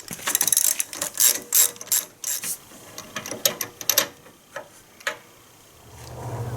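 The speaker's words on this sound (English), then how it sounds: "13/16 inch spark plug socket in a small extension to remove it. And obviously we go counterclockwise." A ratchet with a 13/16 inch spark plug socket and a short extension loosens the spark plug on a Craftsman SB410 snow blower, rapid close clicking in short bursts followed by a low rumble at the end.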